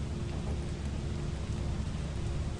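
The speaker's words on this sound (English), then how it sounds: "Oh, and now it's raining." Steady heavy rain hiss in the video game Lethal Company with low rumbling underneath, a continuous wash of downpour without voices.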